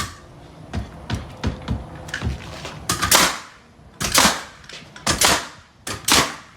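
A nail gun fires nails into wood framing in a series of sharp, loud, close pneumatic bangs, some in quick pairs, with clatter and handling noise between shots.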